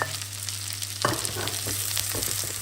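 Vegetables and wild spices sizzle steadily in a hot pan, a close, bright frying hiss with a stirring scrape near the middle and no voices.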